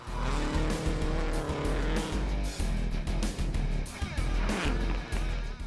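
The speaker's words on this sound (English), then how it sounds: "It's a bit of a Subaru battle as he swaps positions with Japan's Toshi Arai." A Subaru rally car racing on a forest stage at the 2006 Rally Japan, with a loud, close engine revving hard through gear changes, punctuated by repeated bursts of tire noise and gravel spray.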